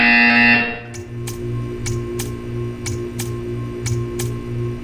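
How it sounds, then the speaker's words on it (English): Portal 2 test-chamber buzzer: a steady, repeating electronic buzz with sharp regular clicks about once a second, following a brief louder tone at the start, sounding alone with no talk. "You will hear a buzzer."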